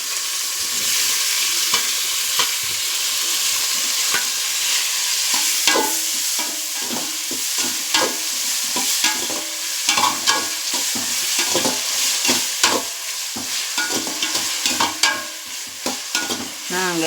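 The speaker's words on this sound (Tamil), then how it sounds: "தக்காளி நல்லா வதங்கட்டும்." Tomatoes sautéing with onions in a pot for tomato rice, a continuous close sizzle with busy, repeated stirring scrapes and clatter from start to finish.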